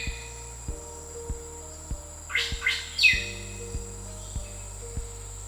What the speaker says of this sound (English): the lesser racket-tailed drongo fills the forest with its remarkable song